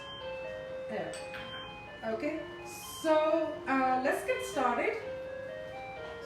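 A mobile phone ringtone plays a bright, chiming tune in a kitchen, coming in short melodic phrases at moderate volume while a person talks over it.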